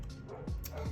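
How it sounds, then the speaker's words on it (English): A dog gives a couple of short yips or barks indoors, rising quickly and fading, heard under a steady background of room noise. "Sorry for the dog barking."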